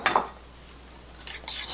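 A small metal teaspoon clinks against a bowl as salt is added while preparing batter for Korean pancakes, a brief sharp clink at the start followed by faint scraping and light tapping.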